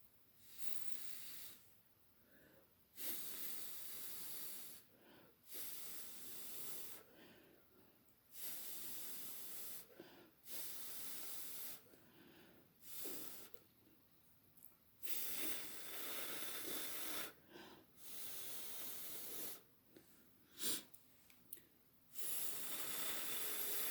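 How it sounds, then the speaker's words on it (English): Someone blows air in repeated bursts onto an acrylic paint pour on ceramic tiles, producing close, breathy hissing gusts separated by short pauses. "Let me see if I can blow it just a little bit."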